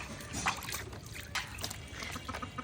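Water trickles and splashes gently as hilsa fish are washed by hand in a basin, soft continuous dribbling with a few small splashes, fairly quiet and close.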